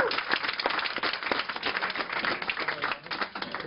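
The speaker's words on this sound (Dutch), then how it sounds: "Geef een applaus, Reina." Applause from an audience welcoming 13-year-old Reina at an afternoon event in a bookshop, a steady patter of clapping lasting the whole moment, fairly dense and even with no talk over it.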